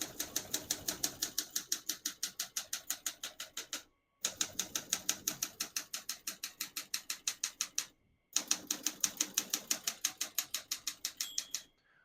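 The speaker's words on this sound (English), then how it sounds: "Once you hear the bell, you're near the end of the margin." Rapid, regular keystrokes on a 1971 Olympia SM9 portable typewriter clatter in three long runs, each ending in a brief pause, with a faint margin bell ring near the end of a line.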